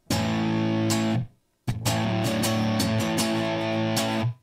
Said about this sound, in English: Big, thick, and crunchy for a nice classic type of sound.